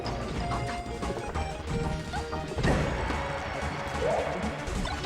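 Impact hits from Super Smash Bros. Melee gameplay during a down smash landing, several sharp crashing thuds over busy game sound and crowd noise, mid-level and dense.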